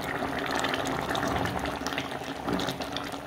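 Pasta boiling in a pot of water in a home kitchen, a steady close bubbling and rolling hiss that carries on without a break.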